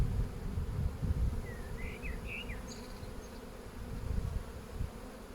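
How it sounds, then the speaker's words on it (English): A dense, steady low buzzing of many bees hums throughout, with a few faint bird chirps above it. "The bees that are flying around"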